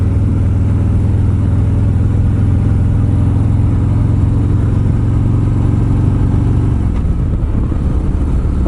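Harley Davidson Road Glide motorcycle engine during a demo ride: a loud, steady low rumble with constant wind noise throughout, the engine tone easing off near the end.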